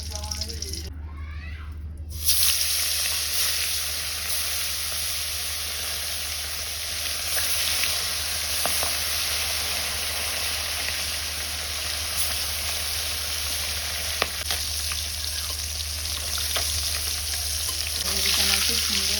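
Fish sizzles steadily in hot oil with a little salt in a home kitchen, a continuous bright frying hiss that holds at an even level from start to finish.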